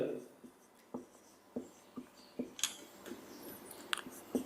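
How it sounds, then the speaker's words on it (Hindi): Chalk or marker writing on a classroom board during a physics lecture, a series of short scratchy taps and strokes at an uneven rhythm, close and fairly faint. "मैं दोबारा लिख देता हूं"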